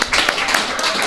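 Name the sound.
applause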